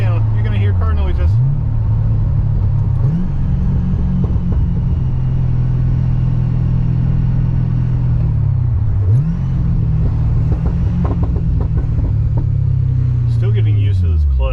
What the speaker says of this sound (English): it's a car channel. You're gonna hear car noises.